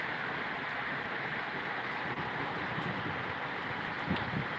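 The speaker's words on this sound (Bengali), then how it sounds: "আজকের বৃষ্টিটা খুবই কড়া হইতেছে ঢাকা শহরে" Heavy rain lashes down with strong wind in Dhaka city, a dense, unbroken roaring hiss that stays loud and even throughout.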